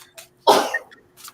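A single sharp sneeze bursts out loud and close, trailed by a brief breathy tail, with faint murmurs just before and after.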